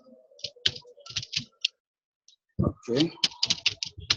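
Quick clicks from a computer keyboard during HTML web design coding. The typing bursts come first, and a voice follows briefly after a pause, with the clicks continuing under the speech.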